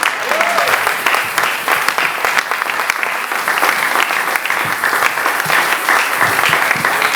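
A church congregation applauds and cheers for the Lord at a Christian gathering, with dense, sustained clapping that carries at a steady level for the whole stretch and a few voices mixed into the crowd noise.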